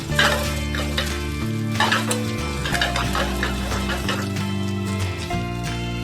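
A Chaozhou oyster pancake fries in a pan until golden, giving a continuous moderate sizzle with faint scraping, heard under steady background music.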